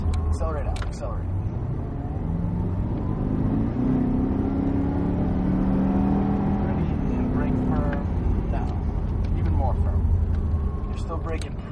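A Cadillac CTS-V Coupe accelerates around the Circuit of the Americas race track, its engine droning and rising in pitch under steady talk from a driving instructor in the car.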